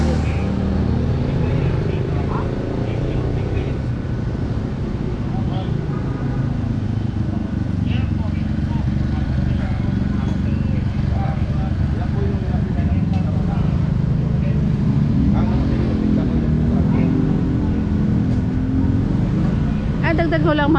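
Motorcycles and cars rumbling past a police checkpoint, a steady low engine drone throughout with passing vehicles under continuous background talk.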